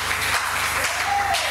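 A church congregation applauds and cheers for the Lord, a dense steady wash of clapping that holds evenly throughout with a brief whistle-like tone near the end.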